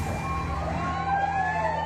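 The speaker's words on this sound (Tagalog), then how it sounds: "Agad nagdatingan ang mga truck ng bumbero para apulahin ng apoy." Fire truck sirens wail at a building fire in the early morning, several rising and falling tones overlapping at moderate distance over a low engine rumble.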